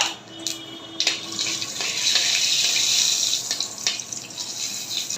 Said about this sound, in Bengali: এখন পাঁচফোড়নগুলো ভেজে নিব।